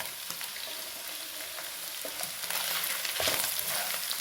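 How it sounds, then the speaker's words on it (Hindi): Finely chopped carrots for egg fried rice frying in a pan, a continuous crackling sizzle that swells a little louder toward the end, with faint scrapes of stirring. "थोड़ा सा भून लूँगी।"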